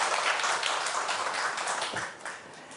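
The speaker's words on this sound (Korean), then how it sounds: "교수님께 다시 한번 박수 부탁드립니다" A lecture audience applauds a professor with dense, steady clapping that fills the hall, then thins and fades toward the end.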